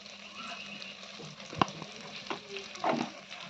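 Turmeric and spices frying in hot oil for a prawn and taro-stolon dish, a soft steady sizzle with occasional scrapes and taps of a stirring spoon, fairly quiet and without talk.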